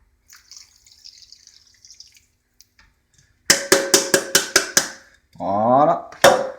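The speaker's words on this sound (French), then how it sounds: "Nous allons ensuite verser les 150 millilitres d'eau." Water, 150 ml, goes onto 750 g of sugar for chouchous candied nuts. A few dripping clinks come first, then a short pour whose pitch rises as it fills, followed by a final clack.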